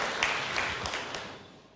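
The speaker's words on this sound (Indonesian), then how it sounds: "Berikan tepuk tangan yang meriah buat Tuhan." A church congregation bursts into applause during a sermon, a brief wash of clapping that fades steadily within two seconds, moderately distant and fairly quiet.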